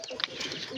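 Pigeons in a backyard loft give soft, close, muffled cooing and a few quick bird calls over a short stretch, with no talking.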